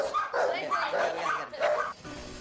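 An aggressive pug lets out a quick run of sharp, yappy barks close by, three or four bursts in a row before going quiet, with some human speech mixed in.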